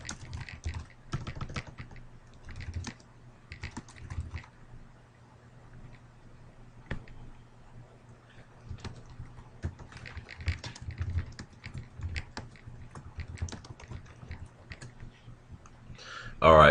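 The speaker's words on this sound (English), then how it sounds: "If I can type." Bursts of quick computer keyboard typing, tapping in irregular runs with short pauses between, fairly quiet and close, with a louder thump at the end.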